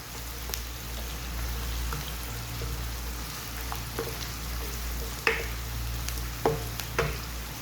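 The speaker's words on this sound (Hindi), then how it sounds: "जस्ट इसको हल्का सा सौते करेंगे ताकि इसका अच्छा सा मसाला बन जाए" Onions sauté lightly in a pan as the base for baingan bharta, a soft steady sizzle under a low hum, with a few sharp spoon taps and scrapes toward the end and no talking.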